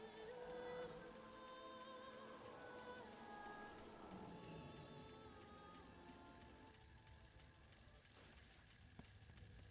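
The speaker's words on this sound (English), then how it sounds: "It's starting to rain." Rain begins falling in a farming video game, a steady soft patter of drops on surfaces that runs throughout and thins slightly toward the end.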